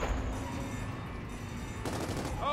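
Sustained video game gunfire in Gears of War 4 pours into an enemy core, a dense, continuous rattle of shots forming a steady wall of noise with a brief burst of extra crackle near the end.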